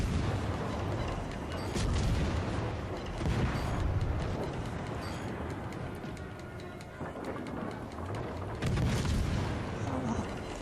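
Heavy warship gunfire in the video game World of Warships Legends, loud deep booming salvos rolling through a dense rumble, with someone talking over the battle.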